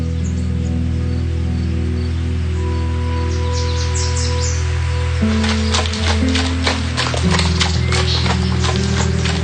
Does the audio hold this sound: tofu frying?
no